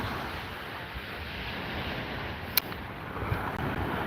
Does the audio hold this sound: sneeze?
no